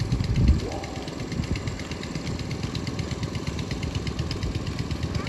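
A rice planting machine's engine runs continuously in a paddy field, steady and mid-pitched with a rough, chugging rhythm, fairly close, after a brief thump at the start.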